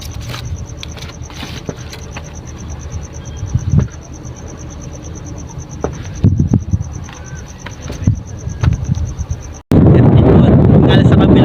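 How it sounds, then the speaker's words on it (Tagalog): Strong wind buffets the microphone in a steady low rumble with scattered gusts, swelling to a loud, roaring blast near the end. "malakas ang hangin malakas ang halon din dito"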